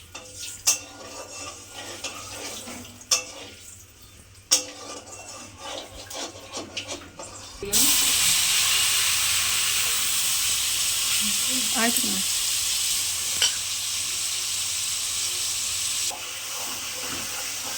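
Mashed plantain paste with black cumin, garlic, chili, salt and turmeric is stirred in a pan, first with scattered utensil scrapes and taps, then a loud, steady sizzle of frying with occasional stirring clinks.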